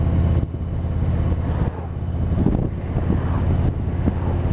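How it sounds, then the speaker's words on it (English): Wind buffets loudly while riding a 2018 Harley-Davidson Road Glide Ultra, a continuous rushing roar over the low engine drone, with brief dips as the gusts shift. "A little bit more wind than I thought there would be."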